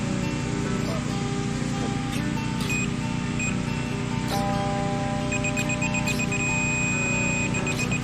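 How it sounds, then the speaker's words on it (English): Construction level beeping as a sonotube for a concrete pier footer is set to the right height, thin electronic tones that turn into a steady solid beep, close by and fairly faint over outdoor background noise. "Once we hear the solid beep, we know we're at the right height."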